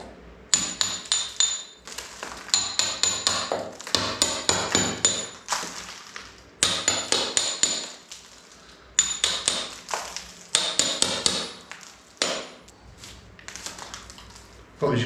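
Sharp, ringing taps strike repaired lime render in repeated bursts of quick knocks separated by short pauses, close and crisp, with a person speaking softly between them.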